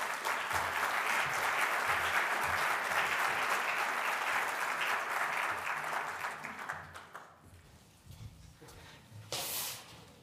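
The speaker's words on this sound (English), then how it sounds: "Give Catherine a big round of applause." An audience at an arts and architecture talk gives a big round of applause for a speaker, full crowd clapping that fades out after about seven seconds, leaving quiet room noise and a brief rustle.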